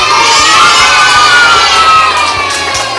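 Kindergarten children at a school competition cheer and shout loudly together, a continuous near crowd roar with excited high voices throughout.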